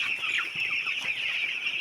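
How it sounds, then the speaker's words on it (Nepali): Young chicks in a coop chirp in quick, high overlapping peeps, mixed with soft clucks from nearby hens, continuous and fairly close with no talking. "खेलिरहेका छन् चल्ला चाहिँ"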